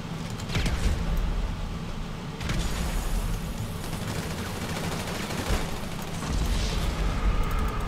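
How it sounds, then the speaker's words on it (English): Grenade explosions and gunfire during a GTA5 Online casino adversary match, heavy booms and rattling shots rolling on continuously without a break, loud and dense throughout. "Oh, I hear grenades."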